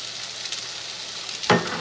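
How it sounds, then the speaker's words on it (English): A mahi mahi fillet laid top side down in a hot pan gives off a steady hissing sizzle, with a sharp louder crackle near the end and no talking. "we're gonna take this beautiful mahi and we're gonna lay it down top side first. See how that sizzles and nice and hot?"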